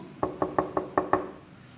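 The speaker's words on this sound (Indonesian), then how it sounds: "serigala datang ke rumah kayu lalu mengetuk pintu" A wooden door knocked on six times in an even, moderately paced series, fairly close and clear, followed by quiet.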